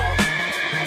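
Horse neigh sound effect: a short, bright whinny with a quick rising onset and trailing tonal warble, loud and alone.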